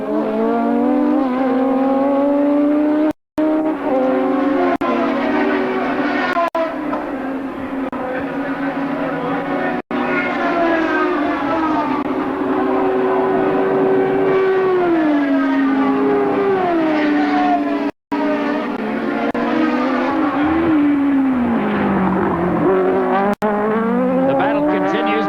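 Formula Pacific race cars at the 1991 New Zealand Grand Prix, with loud, high-revving engines wailing continuously and rising and falling through gear changes as they pass. A commentator talks over the racing.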